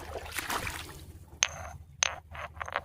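Pieces of petrified wood knock together outdoors by an artesian spring, giving two sharp, bright porcelain-like clinks about half a second apart, with faint fainter taps after over a low background murmur.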